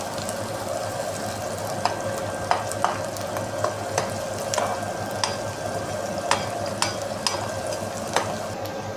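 Food frying steadily in a pan while being browned lightly, a constant close sizzle broken by scattered sharp clicks and scrapes of stirring, with no voices.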